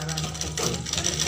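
Sewing machine stitching a four-panel petticoat in a tailoring class, a brief close run of steady mechanical whirring and clatter.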